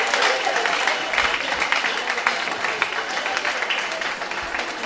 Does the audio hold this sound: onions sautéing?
no